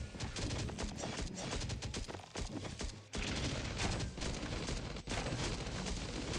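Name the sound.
gunfire in video game Last Day on Earth: Survival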